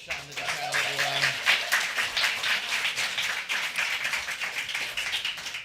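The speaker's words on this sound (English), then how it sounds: "Another round of applause for Shonda Buchanan, everyone." Audience applause at a poetry festival, dense steady clapping from many hands lasting the whole stretch, fairly close and loud, with no talk over it.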